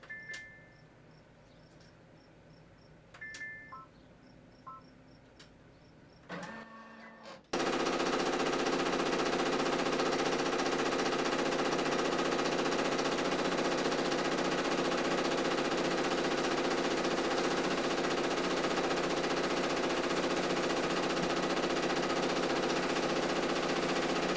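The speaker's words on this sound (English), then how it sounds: "I'm going to press that, and the machine is going to start to embroider" A Brother PRS 100 embroidery machine stitching a zippered bag in the hoop starts up after a few quiet seconds of button beeps, then runs as a loud, steady, rapid mechanical rattle of needle strokes for the rest of the clip.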